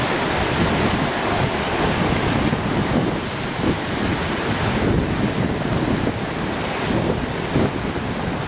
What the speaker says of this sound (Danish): Regnfuld og lidt blæsende her til morgen